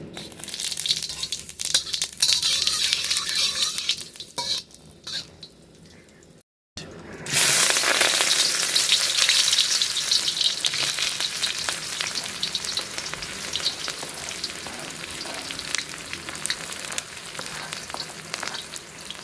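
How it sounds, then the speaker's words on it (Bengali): Dried red chillies and cumin seeds tempering in hot mustard oil, a loud crackling sizzle that bursts in after a brief quiet gap and keeps frying steadily, with light stirring noises, no voices. "ফোড়নে দিয়ে দিচ্ছি শুকনো লঙ্কা আর সাদা জিরে।"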